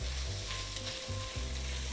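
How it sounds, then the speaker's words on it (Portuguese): Beef shin browning in a little olive oil in a pan for onion soup stock, a steady close sizzle and fry crackle with faint stirring, no talk. "aqui vamos dourar primeiramente a carne em um pouco de azeite"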